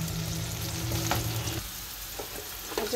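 Green chillies and garlic sizzle and crackle in a hot pan, with stirring scrapes and a low hum that cuts off halfway, leaving the frying hiss.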